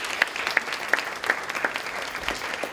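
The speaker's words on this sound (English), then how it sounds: "So let's give ourselves a round of applause on that." A small audience at an education talk claps in a short, sparse burst, with a few distinct sharp claps over a softer patter, moderately quiet.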